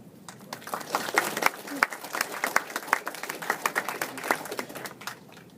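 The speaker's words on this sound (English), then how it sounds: "to thank every one of my team members with a short round of applause for all the hard work that they've done." A small audience gives a short round of applause for robotics team members at a mechatronics day presentation, with sparse, distinct hand claps in a loose rhythm, moderately close and fading at the end.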